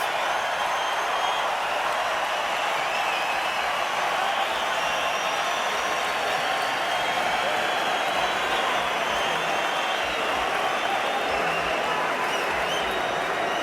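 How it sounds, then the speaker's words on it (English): At the bell in the Lucian Bute vs Glen Johnson boxing match, the arena crowd roars and applauds in a steady, unbroken wash of noise that fills the space from far around. "Crowd revs up at the bell."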